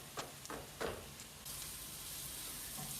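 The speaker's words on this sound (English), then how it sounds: "the smell of garlic really starts to come out with the olive oil and the sizzling noise" Garlic and salt paste sizzles in olive oil in a pan, a faint steady hiss that thickens into a continuous sizzle after a few soft clicks and knocks.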